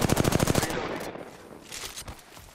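Rapid automatic gunfire from a video game shooter, a dense burst of loud repeated shots at the start that breaks off into scattered fainter shots and ambient battle noise.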